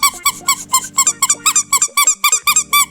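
A squeaky rubber frog zombie toy squeaks about a dozen times in a steady rhythm, each squeeze a loud, close, high-pitched rubbery whistle, with a faint mechanical hum underneath.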